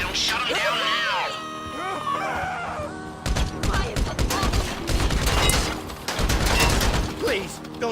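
Rapid bursts of gunfire in Grand Theft Auto V as security cameras are shot out during a bank heist, loud sharp cracks in quick clusters after a stretch of voices and crowing-like calls, with talk throughout.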